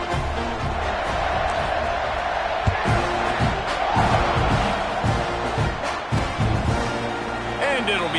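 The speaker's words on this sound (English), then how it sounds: "this crowd is buzzing after that last score" A college football stadium crowd at a UTSA game buzzes after a score, a dense roar of cheering and chatter with occasional sharp thumps, under close announcer talk.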